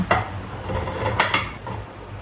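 Carrot pieces clatter into a cooking pot for a vegetarian mixed-vegetable soup, a few sharp knocks and scrapes against the pot at close range with no voices.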